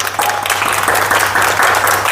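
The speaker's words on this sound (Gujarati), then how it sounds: "ચાલો તાળી પાડો બધા" A class of students clapping their hands together, a dense burst of applause that carries on steadily for a couple of seconds, fairly loud and close.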